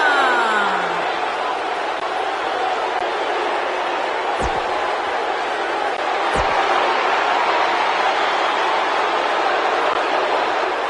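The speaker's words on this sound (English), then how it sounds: "The crowd is buzzing with excitement." Steady crowd buzz fills an arena during a WWE 2K19 SummerSlam ring entrance for John Cena with Triple H, a dense continuous roar at constant loudness with a couple of brief sharp accents.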